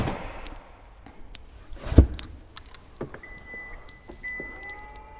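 The power tailgate of a Kia EV6 GT electric car opens automatically with a soft, steady electric motor whir, preceded by a few light clicks and thumps, quiet and close with no talking.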